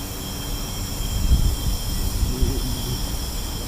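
Natural gas flowing through a pipeline beneath the high-water Willamette River gives a steady broadband rushing hiss with a low rumble, constant and fairly loud, with no voices.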